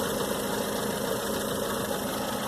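A car engine with a clogged hydraulic lifter idles nearby, a steady, even drone with a faint ticking tap inside it and no voices.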